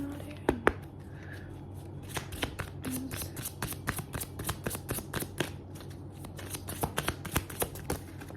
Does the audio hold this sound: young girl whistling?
no